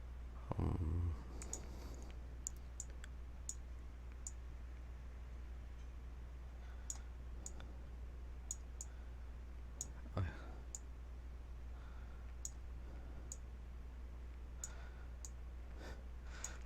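Computer mouse clicking during drawing, sharp isolated clicks at irregular intervals over a steady low hum, fairly faint and close, with a brief breath or murmur near the start.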